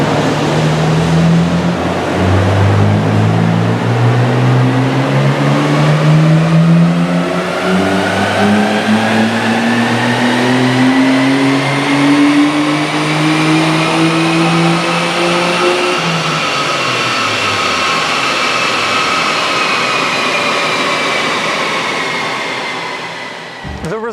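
A Nissan Skyline GT-R engine revs steadily on a dyno, its pitch climbing in a long sweep as it pulls through the gears, loud and sustained, then fading off at the end.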